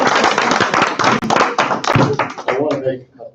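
Clapping and tapping at a legislative assembly gathering, close, loud and uneven, with thumping hits and a burst of voices, trailing off near the end.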